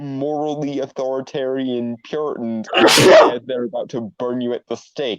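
Someone sneezes loudly once, a sharp burst in the middle of a man's steady speech, which continues right after.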